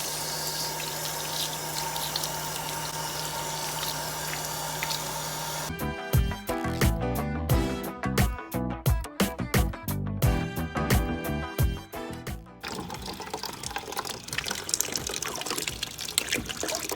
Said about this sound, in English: Let's wash our potatoes.